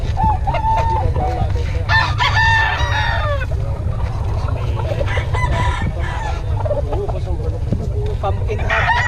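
Roosters crow and chickens cluck in a busy market at Bocaue, with several overlapping crows over a steady low crowd rumble and background chatter.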